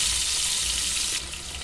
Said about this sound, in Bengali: টমেটোটাকে দেওয়ার পরে কিন্তু এটা খুব ভালো করে আমি কষাবো